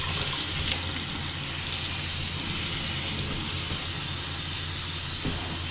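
Water steadily rushing and hissing as a toilet tank refills during a renovation, a continuous close broadband flow without pauses.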